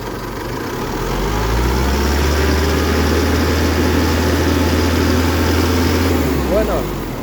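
An Isuzu D-Max 3.0 4JJ1 diesel engine runs close and loud as a heavy, steady low drone that holds for several seconds and then eases off near the end.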